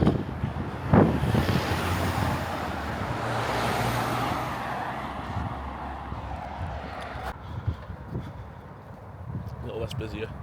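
A 6A bus approaches through busy traffic, its rumble blending into a steady wash of road noise and wind buffeting the microphone, with a person talking over it.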